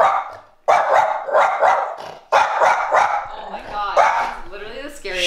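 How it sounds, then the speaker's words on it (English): A dog barks repeatedly in loud, close bursts with short gaps, while a person talks over and between the barks. "Do you want to bark at me or not?"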